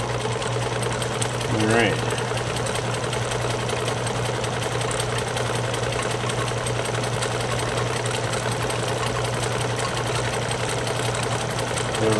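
A Necchi Supernova sewing machine stitches a zigzag, its motor humming steadily with a rapid, continuous mechanical chatter close by, while someone speaks briefly.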